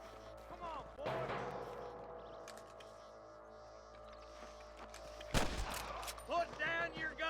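Scattered bursts of gunfire crack over a busy Red Dead Redemption game soundscape, with a sharp loud burst near the end, mixed with voices and background music.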